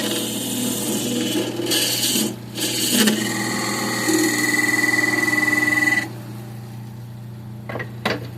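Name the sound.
sanding a mini cedar urn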